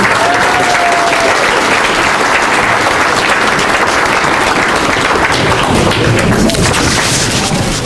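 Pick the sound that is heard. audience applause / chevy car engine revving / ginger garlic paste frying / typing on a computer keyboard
audience applause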